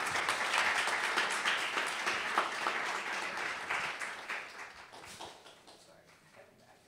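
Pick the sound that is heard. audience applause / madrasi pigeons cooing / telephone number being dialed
audience applause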